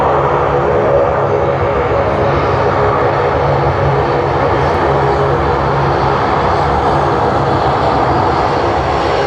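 A Malaysia Airlines MH123 aircraft at Sydney Airport, about a year old, produces a loud, steady engine roar that stays broad and constant throughout, with no voices.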